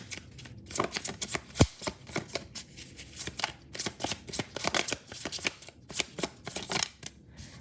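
Tarot cards being shuffled by hand, heard as rapid, irregular bursts of papery riffling and slapping clicks throughout, close and fairly crisp, with no talking.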